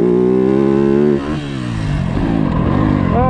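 A Yamaha YZ250F motocross bike on a track, its engine loud and close, holding a high rev before dropping briefly and then climbing again in strong pulls as it accelerates.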